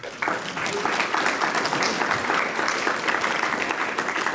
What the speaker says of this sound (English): Let's give everybody a round of applause again.